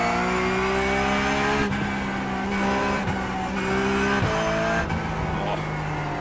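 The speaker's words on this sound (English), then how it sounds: "guys driving a yellow Porsche" A yellow Porsche race car drives the COTA circuit, its engine a loud, steady high-pitched whine with sharp gear-shift drops and re-climbs as it accelerates, heard close up.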